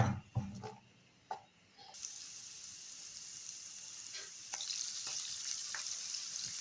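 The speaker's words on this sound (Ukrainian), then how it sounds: "На сковорідку наливаю соняшникову олію і додаю спочатку цибульку." A few clatters of onion dropping into a pan of sunflower oil, then a steady close sizzle of frying with occasional pops and stirring sounds.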